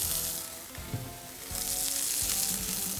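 Fresh rosemary sizzles in oil in a pan, a dense, bright, continuous crackle heard up close, swelling slightly louder in the second half, with no voices.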